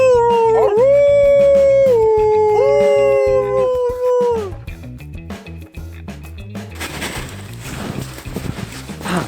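Near a cottage, wolves or dogs let out long wavering howls, several voices overlapping and sliding in pitch, loud and fairly close, before giving way to scattered whimpers, yips and rustling noise.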